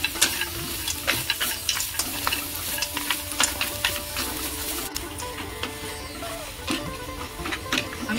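Grated coconut is stirred in a hot wok on a gas stove for a modak filling, with a steady sizzle and repeated scraping stirs close by and no talking.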